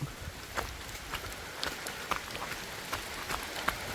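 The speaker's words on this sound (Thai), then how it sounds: "โอ้ฝนตกเด้เขาจัดเลย" Light rain patters steadily and close by outdoors in rural Laos, with scattered drops striking a surface over a soft, constant hiss and no voices.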